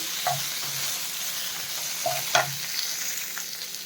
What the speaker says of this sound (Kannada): ಲೋ ಫ್ಲೇಮಲ್ಲೇ ಇಟ್ಟು ಸ್ವಲ್ಪ ಫ್ರೈ ಮಾಡ್ಕೊಳ್ಳಿ